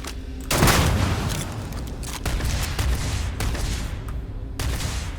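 Dense gunfire and explosive booms from a zero-gravity battle in the video game Starfield, a loud continuous barrage with a heavy blast near the start and sharp pops throughout.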